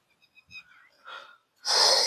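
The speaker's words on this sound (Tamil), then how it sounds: "இப்பயே மூச்சு வாங்குது நமக்கு" Heavy breathing from a hiker out of breath: a few faint breathy puffs followed by a loud, close, forceful exhale near the end.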